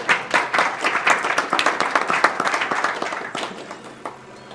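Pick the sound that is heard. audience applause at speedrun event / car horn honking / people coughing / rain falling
audience applause at speedrun event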